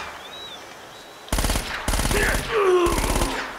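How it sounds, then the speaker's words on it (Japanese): Rapid bursts of enemy submachine gun fire in the action game Uncharted, three loud close volleys of automatic shots separated by short pauses, with a faint voice at the very end. "この野郎めっちゃ撃った。 今の連射だけで12発も持ってかれたわ。"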